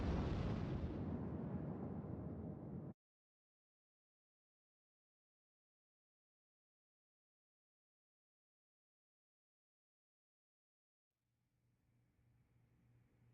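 A Tekken 6 explosion hits as a loud, broad roaring burst that holds for about three seconds and cuts off abruptly, followed by long silence and then faint low game sound.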